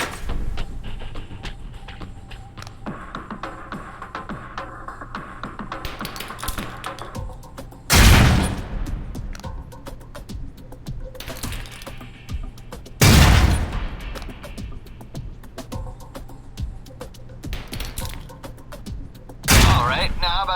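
Three loud concussion grenade blasts burst in the Alpha Protocol (2010) PC game, spaced several seconds apart over a steady busy game background with a voice in places.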